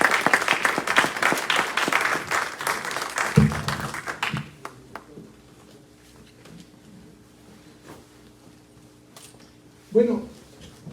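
An audience at a Peruvian university panel discussion applauds loudly and steadily for about four seconds, then the hall falls to a quiet room hush with faint shuffling and a brief bump near the end.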